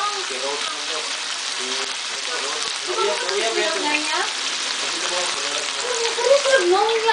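Mushrooms and tuna frying in a pan for carbonara, a steady sizzle running throughout with a person talking over it.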